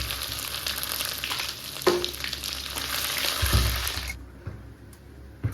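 Dried red chilies dropped into hot oil with bay leaf, cumin and ginger paste: a loud crackling sizzle with a sharp clink at first, a stirring scrape, then a sudden drop to a faint hiss near the end, no talking.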